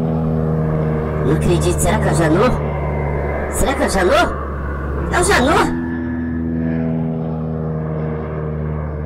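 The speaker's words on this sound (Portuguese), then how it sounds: "Que barulho é esse? Um avião?" Small airplane approaching and flying in on a farm, a steady engine drone with propeller hum swelling and shifting under excited talking.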